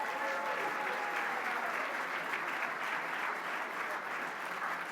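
An audience applauding Hall of Fame lacrosse coach John Danowski at an induction ceremony: a full, continuous roar of clapping from a large crowd, steady and loud for the whole stretch.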